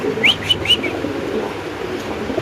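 A few soft bird calls and coos near the start, pigeons nearby, over a low steady background hum; no one speaks.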